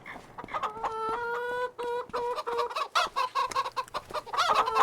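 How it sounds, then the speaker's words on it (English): Several chickens clucking and bawking in quick, overlapping bursts in Farming Simulator 25, close and fairly loud, with a faint low hum in the background. "So as you can hear, we did get chickens."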